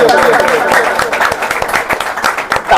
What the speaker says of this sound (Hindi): सबके लिए जोरदार तालियां बजाइए।